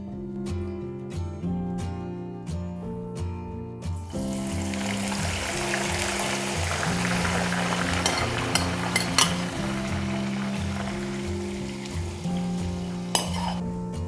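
Eggplant pieces deep-fry in hot oil for Sri Lankan wambatu moju. After a few clinks a loud, steady sizzle and bubbling begins and runs on, broken by scattered clinks and scraping from a utensil in the pan.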